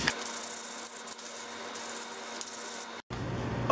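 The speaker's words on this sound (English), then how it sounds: "Now to sand all these." Steady, abrasive rasping of wood being sanded, continuous and close, with a brief pause near the end before it resumes.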